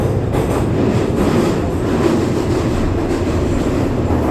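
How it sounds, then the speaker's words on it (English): A London local underground train rumbles loudly and continuously from inside the carriage, a dense low roar with faint rhythmic wheel clatter and no talk. "I think this is a local train"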